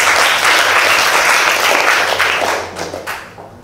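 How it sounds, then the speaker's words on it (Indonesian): A room full of people claps steadily and loudly at a teacher training session, the applause thinning out and fading near the end. "Tepuk tangan buat Elis."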